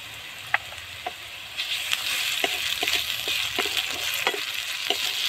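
Ground ginger-garlic paste fries with browned onions in a pan. The sizzle rises after a couple of seconds and continues close and steady, with a series of spatula scrapes and taps throughout.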